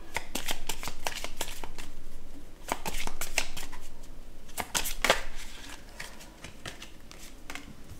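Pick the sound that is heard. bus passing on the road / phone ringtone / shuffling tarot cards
shuffling tarot cards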